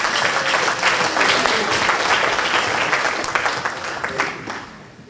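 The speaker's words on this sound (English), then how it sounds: "Come on, clap for Mike." Audience applause at a graduation ceremony for a fathers' program, a full, loud burst of clapping that holds steady and then gradually thins toward the close.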